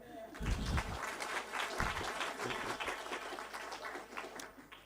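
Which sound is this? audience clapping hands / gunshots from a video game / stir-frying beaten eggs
audience clapping hands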